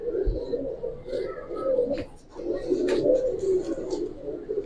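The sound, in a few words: pigeon cooing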